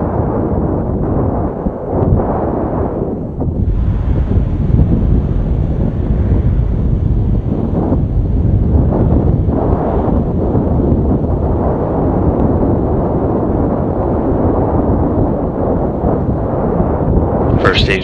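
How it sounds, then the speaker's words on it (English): Soyuz rocket first stage thrusters firing during an ISS launch, a continuous loud broadband roar and rumble that holds steady throughout with wind-like buffeting. "First stage thruster still continuing to fire nominally."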